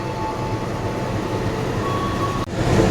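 The Pangrango passenger train rumbles in a steady, loud, continuous roar with a faint high tone, followed by a sudden brief thump and a slight swell of noise near the end.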